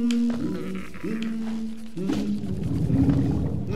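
A low, droning hum from the map seller character in the Hollow Knight video game, sung in three rising swells with wavering tones over a busy game-sound background, moderately loud and with no speech.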